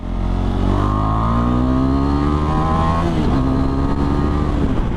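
A KTM 390 Adventure motorcycle with the exhaust dB killer removed revs up in a smooth rising pull, eases off briefly, then climbs again; a loud, close, continuous engine tone with no talk.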